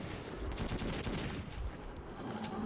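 Gunfire in Metro 2033 comes as a rapid burst of shots, fairly close, running through the short stretch with no speech over it.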